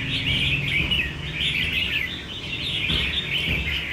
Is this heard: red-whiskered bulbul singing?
yes